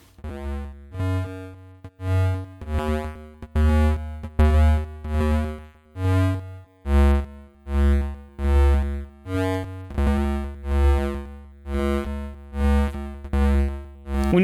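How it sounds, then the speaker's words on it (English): Synth bass made from a Pico oscillator copy pitched down octaves in a track: loud, buzzy low notes pulsing in a steady repeating pattern, with a few pitch changes along the way. "resulting in a somewhat consistent bass sound"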